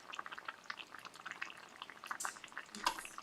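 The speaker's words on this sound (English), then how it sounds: "Do you hear the bubbling?" Apple and raisin gravy simmers in a pan, with soft, irregular bubbling and popping close by at low volume.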